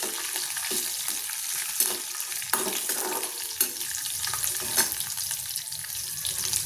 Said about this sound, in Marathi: आता हे सगळं छान परतून घ्यायचं आहे